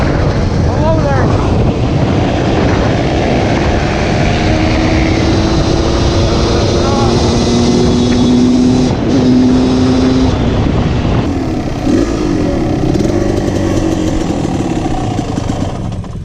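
Four-wheeler ATV engines roar continuously and loud, their pitch sweeping up and down as the machines zoom past at close range, with voices talking over the engine noise.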